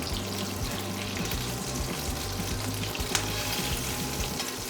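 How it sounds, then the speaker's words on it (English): Loud, continuous crackling sizzle of butter and water in a frying pan, busy and spattering, with a faint low hum underneath. "Why it's sizzling right now is because there's water and butter."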